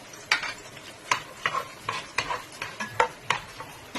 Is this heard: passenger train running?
no